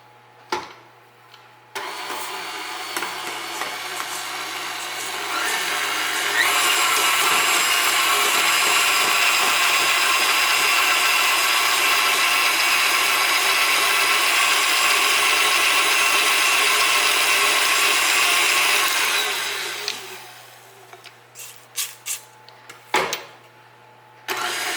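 An electric mixer on low speed creams butter, sugar and an egg for a blueberry buckle cake, giving a steady, fairly loud motor whir. It starts after a couple of seconds, rises in pitch, runs for nearly twenty seconds and then stops, followed by a few clatters.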